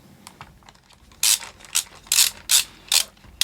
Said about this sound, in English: is very loud, little bit loose, but it works